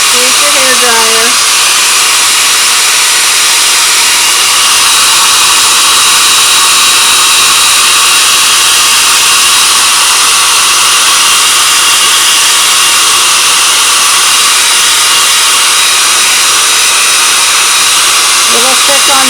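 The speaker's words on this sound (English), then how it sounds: "Use your hair dryer." A hair dryer dries chalk paste on a silkscreen, blowing loud and steady for the whole stretch as a broad, constant whoosh that never pauses.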